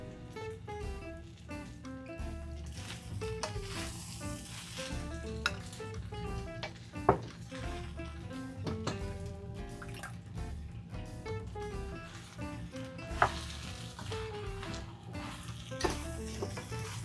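Mixed vegetables stir-frying in a pan with Kung Pao stir-fry sauce, a steady sizzle with stirring scrapes running under loud background music throughout.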